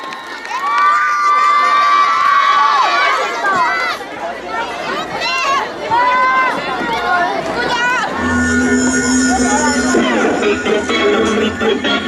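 Crowd at a youth festival in Hwaseong, Korea cheers loudly, with shrill shouts and screams from young fans, excited chatter and clapping mixed in, sustained and close for the whole stretch.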